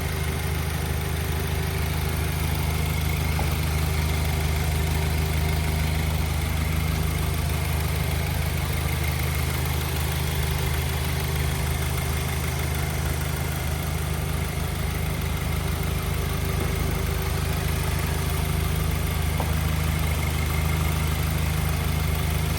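A 2020 Subaru WRX fitted with an aftermarket intake and blow-off valve idles steadily for the whole stretch, a constant low engine hum with no revving and no voices.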